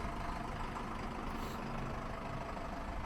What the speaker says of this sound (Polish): Nasz kierowca właśnie będzie rozładowywał ciągnik Zetor Proxima